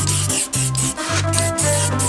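A brush spreads Directo rust-treatment paint along the sill of a hot hatch, making quick, rhythmic scratchy strokes, about four close rubs with brief pauses and no voices.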